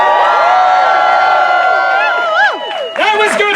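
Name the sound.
audience cheering at Shakespeare show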